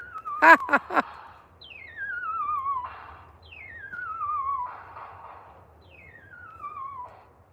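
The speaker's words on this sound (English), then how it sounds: "So that noise you just heard was the marshals scaring the birds away." At an airport, a series of descending electronic whistle-like bird-scaring sweeps repeats at steady intervals, each followed by a burst of noise, after a few sharp pulses at the start.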